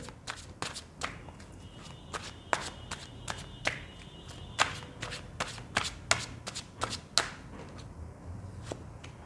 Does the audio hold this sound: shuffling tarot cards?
yes